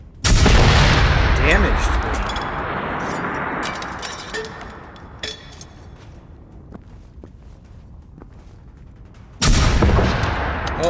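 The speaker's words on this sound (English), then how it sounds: "What did he just shoot" Experimental shotgun blasts in the game Generation Zero, heavy booming shots at the start and again near the end, with scattered clanks, footsteps and a brief spoken word in between.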